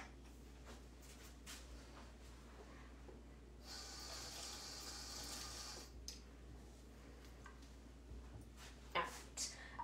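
Tap water runs into a kitchen sink for about two seconds as hands are washed after handling eggshells, a steady hiss amid faint room noise and a few small clatters.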